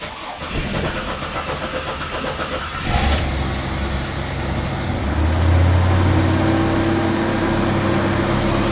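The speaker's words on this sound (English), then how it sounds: "I'm just gonna have to keep cranking her till the fuel pump fills the bowl up." A car with a rust- and mud-filled carburettor is cranked over while its fuel pump fills the float bowl. The starter churns steadily and loudly throughout, and the engine sound grows fuller and louder partway through, with no talk.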